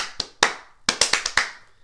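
Hands clap out a rhythm in a kindergarten music lesson: a few spaced claps followed by a quicker run of sixteenth-note claps, crisp and close with no talking.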